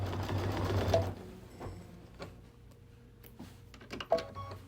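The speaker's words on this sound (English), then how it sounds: "I'll let it sew a few stitches" Solaris/Luminaire sewing machine stitching edge-to-edge quilting embroidery, a faint rhythmic needle whir that starts in a short burst and then settles into sparse mechanical ticks and clicks, close by, with no talking.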